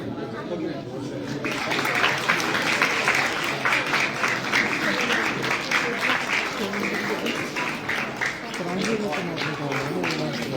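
Audience applause for children receiving prizes at a block-level free bicycle distribution ceremony in Mukundgarh, a dense sustained clapping that starts after a second and continues evenly, with voices chattering underneath.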